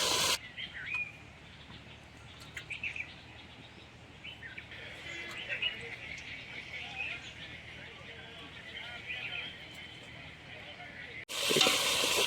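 Vegetables sizzle and get stirred in a pot over an outdoor cooking fire on a farm plot, with soft scraping and frying hiss, birds chirping around, and a person talking.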